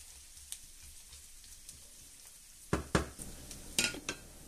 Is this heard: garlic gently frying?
yes